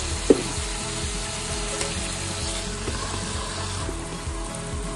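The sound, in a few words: food frying in a covered pan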